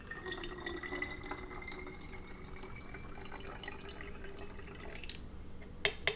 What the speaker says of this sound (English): Next, I'm going to add the vinegar.